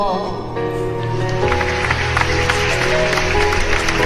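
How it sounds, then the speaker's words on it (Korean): Audience applause breaks out after a Korean poetry recitation of a new Arirang, a steady wash of many hands clapping under a sustained musical backdrop, filling the room without spoken words. "박수 한번 보내주세요."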